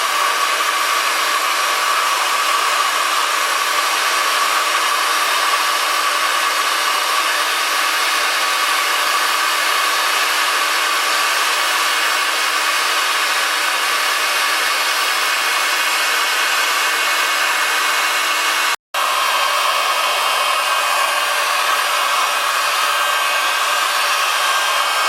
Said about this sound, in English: Now I'm going to use the hot air gun to strip some paint.